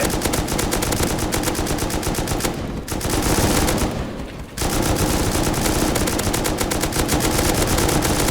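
Rapid machine-gun fire in a video game aimed at a helicopter, loud sustained bursts of automatic shots with two brief pauses, close and without talk.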